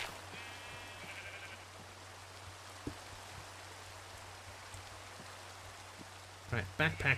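Sheep bleating in Minecraft, a few short bleats near the end over a soft constant rain-like hiss and low hum, with faint electronic tones earlier.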